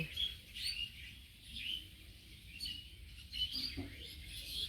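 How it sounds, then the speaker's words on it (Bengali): Myna birds chirp from trees around a wetland at dusk under a cloudy sky, their bright, scattered calls coming in bursts at moderate distance over a low ambient rumble. "পাখিরা এত কিচিরমিচির শুরু করছে।"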